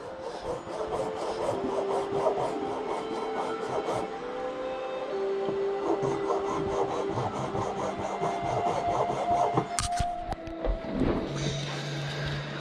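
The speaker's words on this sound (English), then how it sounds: "I'm going to get this thing sanded down, get it squared up, get the divots out of it" Sanding a handcrafted wax ring blank by hand, a steady close scratchy rubbing that runs continuously with short pauses and a few brief knocks near the end.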